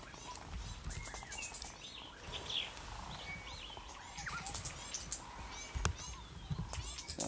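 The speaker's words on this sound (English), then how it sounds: "What kind of bird is that? Making that noise." Birds call during a display in a wooded area, a series of short chirps and whistles scattered over a dull outdoor background, moderately distant, with faint voices nearby.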